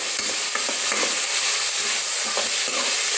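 Ginger, garlic, coconut and tomatoes sizzle steadily in a hot pan as they are stirred, with soft scraping strokes recurring through a continuous frying hiss; no voices.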